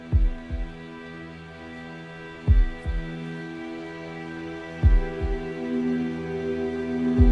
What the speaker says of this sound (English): Starts off with that classic heartbeat.